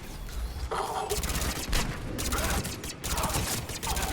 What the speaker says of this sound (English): Wait, I thought we were using our machine pistol.